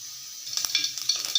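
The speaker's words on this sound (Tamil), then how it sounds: "கடுகு பொரிஞ்சிருச்சு" Mustard seeds splutter in hot groundnut oil, a close hiss dotted with a rapid run of small pops and crackles that starts partway through, and no voices.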